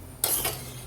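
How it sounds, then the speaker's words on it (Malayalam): A utensil clatters once against a pot while okra curry in a Kerala-style vendakka mappas is moved into another vessel: a single short metallic clink, then near-silence. "ഞാനിത് ഈ പാത്രത്തിലേക്ക് മാറ്റാൻ പോവാണ്."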